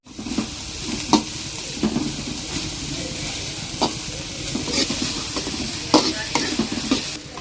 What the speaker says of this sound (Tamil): ஆட் பண்ணியிருக்கிறது எல்லாத்தையும் பார்த்தீங்கன்னா கொஞ்சம் நேரம் நம்ம வந்து வதக்கி எடுத்துப்போம்